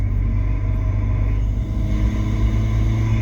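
A Ford Fiesta ST fitted with a 2J-racing intake cruises around town, its engine a steady low rumble and drone from inside the car, fairly even throughout with no hard revving and no talking.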